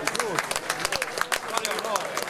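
An audience at a Genoese trallalero singing gathering claps and cheers in a dense, steady burst after a team draw is announced, with crowd murmur mixed in.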